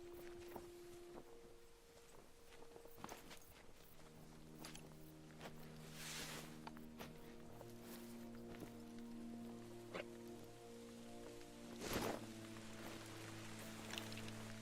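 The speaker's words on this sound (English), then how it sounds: "It's raining heavily" Rain in the hunting video game theHunter: Call of the Wild, a faint steady patter with scattered drops, soft footsteps and a sustained low tonal hum beneath, no talking.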